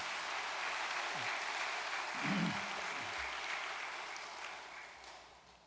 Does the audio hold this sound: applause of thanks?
yes